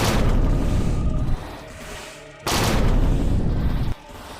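Gunshots in the VR game VRC of the Dead come as heavy, booming blasts, two loud bursts each ringing out for over a second before dropping away.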